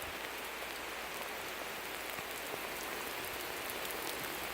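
Heavy rain pours during a night thunderstorm, a dense, continuous hiss of drops hitting surfaces close by, steady and loud throughout with no thunder evident.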